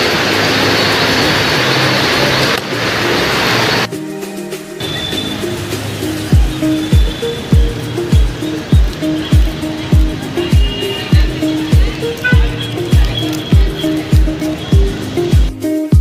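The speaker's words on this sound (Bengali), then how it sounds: "এটা হচ্ছে ভাসি রেল স্টেশন" Ambience at Vashi railway station: a loud, broad roar at first, then a train moving past with evenly spaced, rhythmic wheel clacks over a low rumble.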